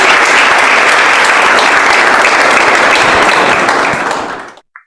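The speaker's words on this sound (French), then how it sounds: "Est-ce qu'on peut donner beaucoup plus d'applaudissements?" Dense, loud applause from a studio audience at a live French-language broadcast show, steady and sustained for about four seconds before fading out abruptly, with no talking over it.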